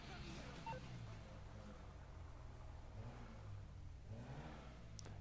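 A car engine hums steadily at low volume as a vehicle rolls into a mechanic's garage in GTA V, with a player's voice talking over it.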